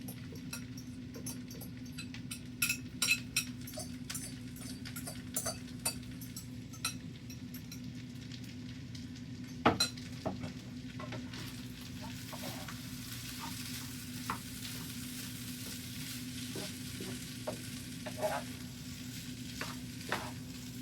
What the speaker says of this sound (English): Okay, I'm going to add my rice.